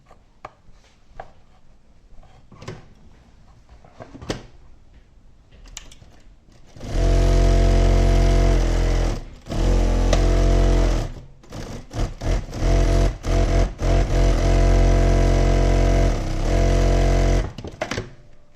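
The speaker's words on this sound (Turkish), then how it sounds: "Düz dikiş makinesi, yürüyen iğne." After quiet clicking, a walking-foot industrial straight-stitch sewing machine starts up loud and close, stitching in long continuous runs with brief pauses between bursts.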